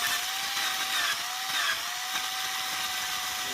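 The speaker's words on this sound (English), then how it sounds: "I'm just going to go very gently on it with high-speed drill." A high-speed rotary drill grinds gently at a metal snap on a pair of pants, a steady high-pitched whine with scraping, continuous and close throughout.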